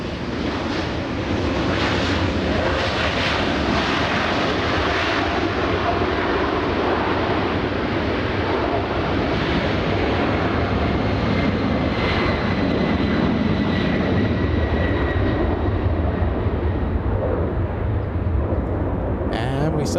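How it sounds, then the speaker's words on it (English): A Delta Airlines jet airliner from Orlando touches down at LAX, its engines a loud, steady broadband roar that holds throughout with faint rising whine tones, while a voice talks over it. "Delta Airlines from Orlando touching down."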